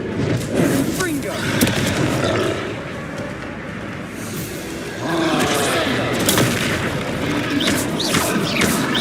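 A Confringo fire spell explodes during a troll fight in the Hogwarts Legacy video game, heard as dense, roaring blasts and booming impacts layered over busy combat noise, with a brief lull before the din swells again.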